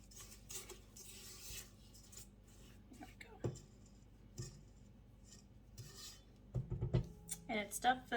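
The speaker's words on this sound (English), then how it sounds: "So let's scrape down the bowl." Spatula scraping down a mixing bowl of chocolate whoopie pie batter: soft, quiet scrapes and rubbing against the bowl, a few light knocks, with a voice speaking intermittently over it.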